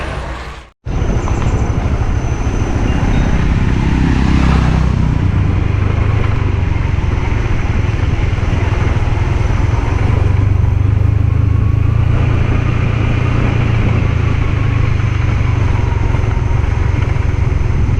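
A Honda CB150X motorcycle ridden under torque, its engine a loud, close, steady drone mixed with strong wind and road rush that runs continuously after a brief dropout at the start.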